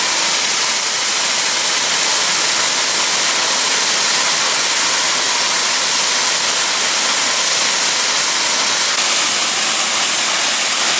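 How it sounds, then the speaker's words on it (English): Cumberland Falls waterfall roaring as a steady, loud, broadband rush of falling water, unbroken and constant throughout with no voices. "enjoying the waterfall"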